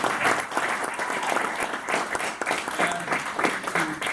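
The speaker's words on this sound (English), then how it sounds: "Let's give a round of applause to all the people." A conference audience gives a sustained round of applause during a keynote address at a Spider-Man in Pop Culture conference at BGSU, dense clapping filling the room throughout with some voices mixed in.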